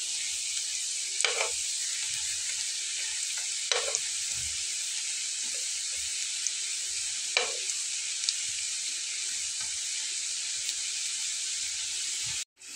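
Egg and coriander-leaf snack fritters frying in hot oil, a steady bright hiss of sizzling throughout with a few brief utensil clicks and stirs, close and even until it cuts off at the end.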